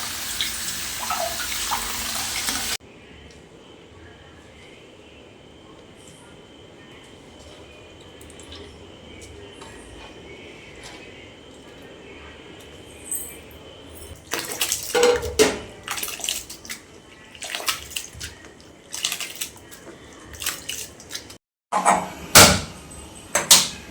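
Dry fish soaking in plain water is drained and rinsed, with splashing, pouring and clattering bursts of water against a vessel coming in uneven clusters after a long quiet stretch of low hum.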